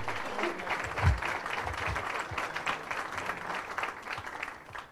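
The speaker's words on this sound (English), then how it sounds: "I want everybody to give yourself a warm round of applause because this is all about you" Warm round of applause from chamber members at a business forum, many hands clapping at moderate distance, steady then gradually tapering off.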